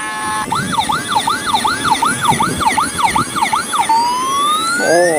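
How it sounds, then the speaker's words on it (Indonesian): A loud wailing ambulance siren sweeping up and down in steady repeated cycles, close by, over a rumbling traffic background. "Ada mobil ambulan teman-teman"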